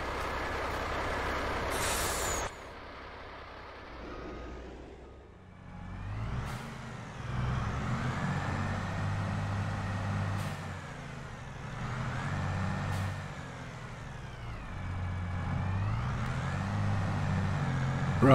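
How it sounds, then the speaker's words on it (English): A truck in the Farming Simulator 22 video game lets out an air-brake hiss, then its engine rumbles and revs up and down steadily while it maneuvers, with no voices. "I'm going to get this truck in here first"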